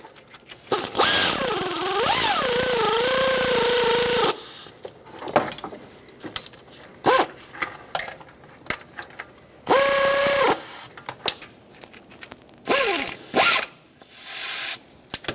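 Power tool, likely a ratchet, whirring in loud bursts while snugging the three power steering tensioner pulley bolts on a 1995-2004 Toyota Tacoma, with a long run followed by a couple of shorter spins and small clanks between.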